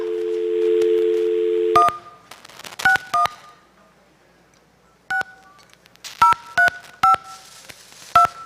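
A telephone call is placed: a steady dial tone sounds first, then a string of short, crisp touch-tone beeps comes in irregular bursts, with quiet gaps between the digits.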